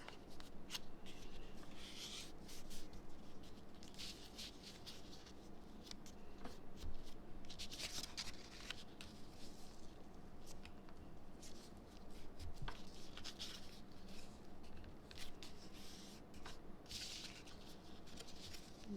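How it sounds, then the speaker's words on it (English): Paper for a candy gift box is folded along its score lines, giving soft, close creasing rustles and crisp crackles in short bursts against a quiet room. "the first thing we're going to do is fold it on the score lines"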